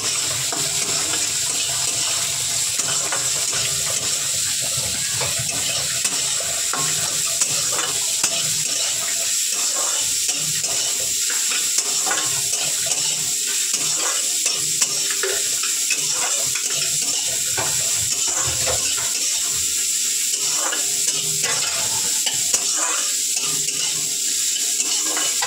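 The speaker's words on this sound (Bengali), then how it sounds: "উচ্ছে ভাজা ভাজা হয়ে এসেছে।" Bitter gourd frying in a pan, a steady sizzle throughout with repeated scraping and stirring strokes, close and loud.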